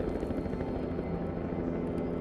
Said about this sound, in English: One of them was a helicopter.